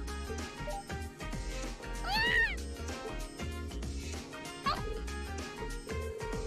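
A cat meows twice in the video game Trails of Cold Steel, with rising and falling mews heard over steady background game music.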